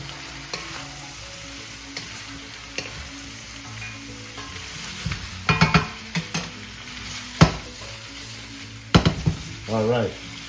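Shrimp and vegetables sizzle in a pan over medium-high heat, a steady frying hiss broken by sharp clanks and scrapes of a utensil stirring against the pan.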